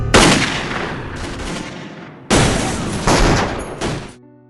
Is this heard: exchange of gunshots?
yes